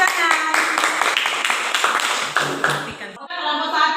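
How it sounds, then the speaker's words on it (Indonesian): Students in a classroom clap loudly for a group presentation, a busy burst of hand claps mixed with chattering voices that thins out toward the end. "Baik, tepuk tangan."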